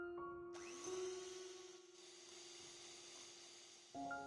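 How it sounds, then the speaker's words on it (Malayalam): An electric hand beater whips Dalgona coffee in a bowl, giving a steady, fairly quiet motorized whir that holds for about three seconds before cutting out. "ഇലക്ട്രിക് ബീറ്റർ വെച്ചിട്ട് ഒന്ന് ബീറ്റ് ചെയ്തെടുക്കുകയാണ്"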